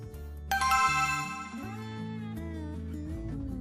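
A phone ringtone plays a short melodic electronic jingle: a bright chime opens, then layered tones carry on at moderate volume with no voices.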